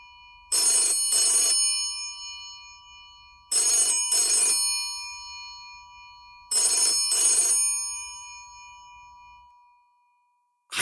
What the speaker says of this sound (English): I guess even the deceased get phone calls.